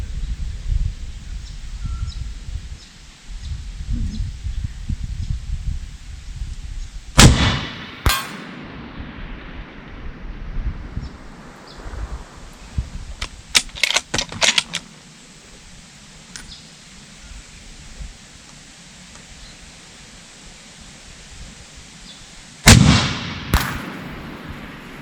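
Two loud, close shots from a .308 Tikka T3X Ace Target rifle at a 1000 m range, about fifteen seconds apart, each trailing a rolling echo, with wind noise and a few faint clicks and clanks between them.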